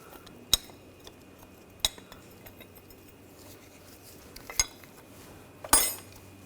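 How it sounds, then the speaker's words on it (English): Metal parts clinking while a brake caliper hanger is removed from a BMW X5 rear brake, four sharp isolated clanks spaced about a second apart in an otherwise quiet garage. "Take the brake caliper hanger off."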